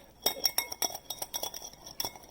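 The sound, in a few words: whisking vinaigrette dressing in a bowl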